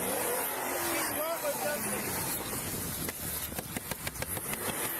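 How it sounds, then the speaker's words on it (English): A car engine roars continuously as a vehicle stuck on a curb is revved, loud and steady, with shouted voices over it and a rapid series of knocks near the end. "the woman revving her vehicle while stuck on the curb"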